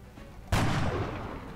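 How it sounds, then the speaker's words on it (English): Sniper rifle shot in the video game XCOM, one sharp, loud crack followed by a booming tail that slowly fades. "I'm just gonna fire another shot with our sniper"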